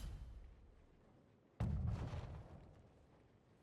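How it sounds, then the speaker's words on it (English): A mortar shot in the battle game Conqueror's Blade lands as a single sudden heavy boom after a quiet rumbling background, then decays into a lingering roar. "They are still shooting with those mortars."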